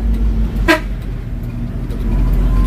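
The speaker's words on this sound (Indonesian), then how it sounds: "Klakson baru kayaknya nih." One short, loud blast from a newly repaired horn on an ALS 220 intercity bus, heard once over a steady low engine rumble.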